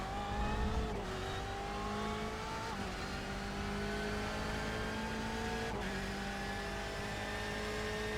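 A BMW GTE race car heard onboard at Suzuka International Racing Course in a racing game, its engine droning loud and steady with rising pitch and sharp drops at gear shifts near the start, middle and later on.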